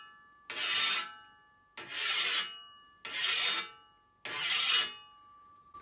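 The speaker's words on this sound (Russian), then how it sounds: "Вот такими движениями мы правим косу." Hand scythe blade being honed with a whetstone, four separate rasping strokes at a steady, unhurried rhythm with short silences between, close and clear with no talk.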